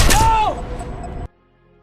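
A sharp gunshot bursts out loudly, followed by a brief ringing tail before cutting abruptly to silence.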